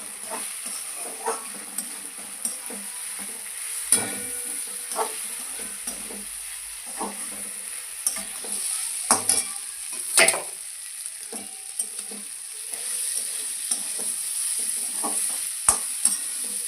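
Bombay duck (bombil) with spices is stirred and fried in a pan, giving a steady close sizzle with a high hiss and scraping clatter from the stirring throughout, and no talking.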